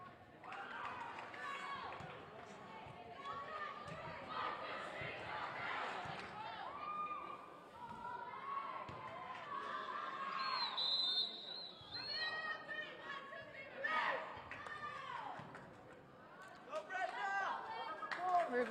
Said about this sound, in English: The crowd seems to be a little chatty today.